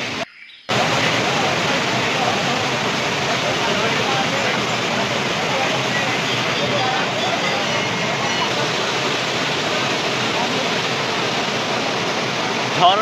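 A waterfall at Panchalingeswar, Odisha rushes in a steady, dense roar that fills the clip after a short quiet opening, continuous and fairly close.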